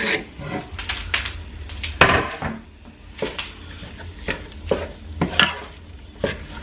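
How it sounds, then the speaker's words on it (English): Ground turkey cooking with onions and garlic in a pan for cheesy chili mac: steady frying sizzle broken by repeated scraping and knocking strokes of a utensil against the pan, close and fairly loud. "So we're just going to cook the turkey until it's nice and cooked all the way through."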